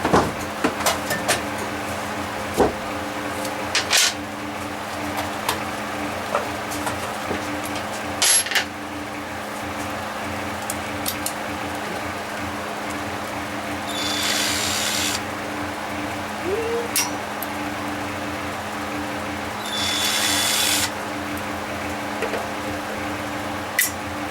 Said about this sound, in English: So we got 2 screws on here that we're going to take off, get that screen out of the way.